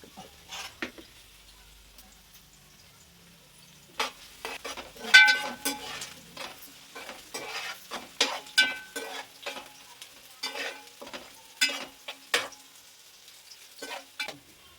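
Onions frying in hot oil for fish curry, crackling sizzle punctuated by a spoon stirring and scraping the pan in irregular close bursts.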